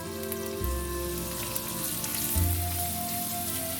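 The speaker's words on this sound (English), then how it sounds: "We're going to saute our onion." Onion sizzles steadily in olive oil and butter in a pan, a loud continuous crackle with a low hum underneath.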